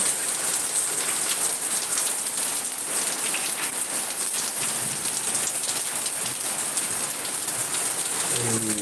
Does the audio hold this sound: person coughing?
no